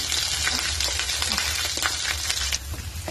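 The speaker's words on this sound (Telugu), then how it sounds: "అల్లం వెల్లుల్లి పేస్ట్ పచ్చి పోయే వరకు వేయించుకోవాలి" Freshly ground ginger garlic paste fries in a pan for a prawn pickle, giving a steady moderate sizzle with occasional small clicks of stirring and no voices.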